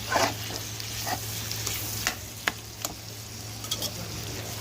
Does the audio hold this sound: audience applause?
no